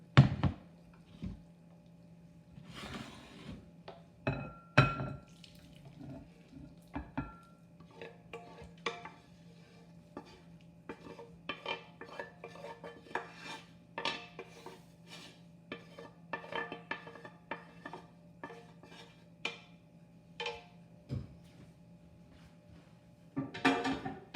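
Boiled French onion soup being ladled into a bowl: scattered close clinks and scrapes of utensils on dishes, with soft liquid stirring sounds over a faint hum, no talking.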